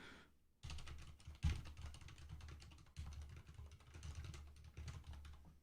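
Soft, quiet keyboard typing with rapid, irregular key taps and a few brief pauses.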